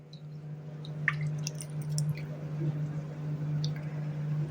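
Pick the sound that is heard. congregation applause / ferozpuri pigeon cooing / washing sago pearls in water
washing sago pearls in water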